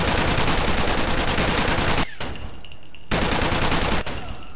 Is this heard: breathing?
no